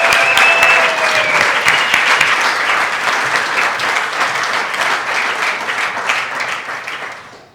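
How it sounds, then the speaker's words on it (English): Wedding guests give the wedding coordinator a big round of applause at the reception speeches, with loud, dense clapping that holds steady and then slowly fades. "So please give her a massive round of applause."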